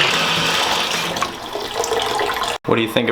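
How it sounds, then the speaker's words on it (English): Water runs steadily from a whale-shaped bathroom faucet in a basement during a tornado warning, a continuous close splashing hiss that briefly cuts out near the end before resuming. "What do you think of our sweet whale faucet?"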